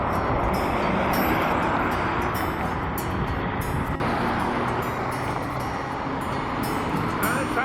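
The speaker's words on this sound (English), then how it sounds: "The traffic on the left is the approach to the George Washington Bridge." Steady road traffic roars on Harlem River Drive and the George Washington Bridge approach, heard from HighBridge above the Harlem River, a loud continuous wash of passing vehicles with faint wind.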